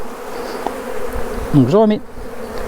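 Honey bees shaken off a hive frame while making an artificial swarm fill the air with a steady, close, droning buzz, while a person speaks briefly over it.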